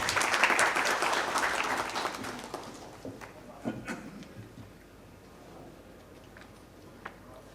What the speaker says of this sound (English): May we have a huge round of applause for Mr. Kachru.